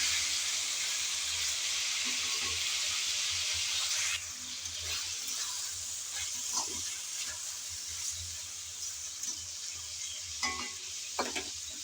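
Ginger and garlic frying in a pan, a steady loud sizzle and hiss with occasional scraping and stirring clatters from a utensil, continuous with no voices.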